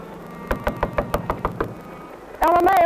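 Repeated knocking on a door, about ten sharp raps at a steady, slightly quickening pace, fairly close and loud, followed by a voice calling out loudly at the end.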